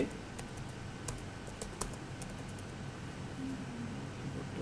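Bengali text is typed on a computer keyboard in quick, irregular clicks, close and faint over a quiet room hiss.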